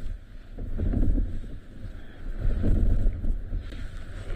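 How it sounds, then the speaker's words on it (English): Strong, gusty wind buffets a safari vehicle out in the bush, a low rumbling roar against the microphone that swells in two big gusts and keeps blowing steadily in between. "So it's like it's non-stop big gusts of wind that are really doing it, but majority of the time it's just constant wind."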